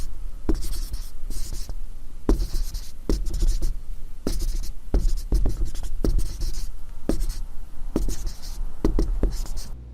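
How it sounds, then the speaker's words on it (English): Pen or marker writing out a divergence theorem equation by hand, a steady run of scratchy strokes broken by brief pauses and taps, close and fairly loud, with no talking. "let me go ahead and write this out."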